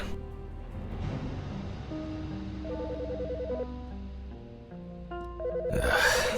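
A telephone rings in the video game Autopsy Simulator, an electronic trill recurring in short bursts over a tonal musical background, moderately loud, with no talking.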